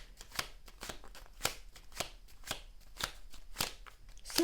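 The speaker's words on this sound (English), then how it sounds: "very emphatic shuffling today" A deck of playing cards being shuffled emphatically at close range, with sharp riffling bursts repeating about every half second across several seconds, alone with no talk.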